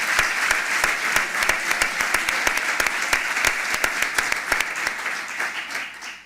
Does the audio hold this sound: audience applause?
yes